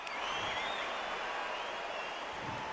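A virtual crowd in the boxing game Undisputed roars and applauds before a bout, a steady, dense wash of cheering that stays even throughout without a break.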